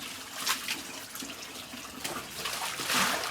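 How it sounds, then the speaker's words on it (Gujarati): Tap water runs steadily while clothes are washed by hand, with soft splashes and drips swelling near the end, close and moderately loud with no talking. "અત્યારમાં કપડાં ધોવાય છે"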